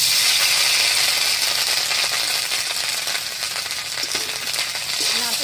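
Loud, continuous sizzling of shredded coconut frying in hot oil, with faint crackles and light stirring throughout.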